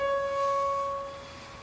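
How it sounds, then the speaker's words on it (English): A pure synthesized tone standing in for an O–H bond stretch vibration, a steady sustained hum with a few clean harmonics, fairly loud and fading slightly toward the end, with no one talking. "this is the sound of the OH stretch translated into the audible range"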